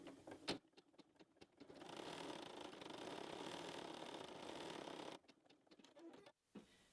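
A home embroidery machine stitching an in-the-hoop bunny bookmark in white thread for the eyes, giving a steady, fast mechanical whir for about three seconds, bracketed by quieter clicks and taps before and after.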